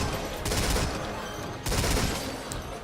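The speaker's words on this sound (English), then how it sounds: "it's just a line of machine guns, no mortars" Machine gun fire in Metal Gear Survive, a line of enemy guns shooting during a wave defense: two sustained bursts of rapid fire, loud and dense, with a brief lull between them.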